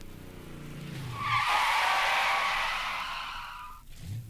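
Tires of a 1965 Pontiac GTO skid during a brake test, a loud sustained squeal swelling for a couple of seconds and then fading, with faint engine sound around it.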